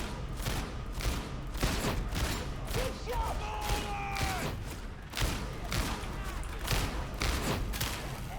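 Sustained gunfire in Warhammer 40,000: Darktide, steady rhythmic bursts of loud shots with thuds and mechanical clatter running throughout, close and dense.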